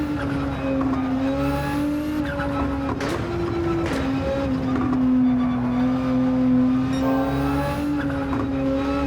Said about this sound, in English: Engine noise on this is kind of annoying.